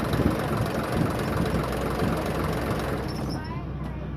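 Hino truck engine idling close by, a steady low rumble with even texture throughout, heard on its own.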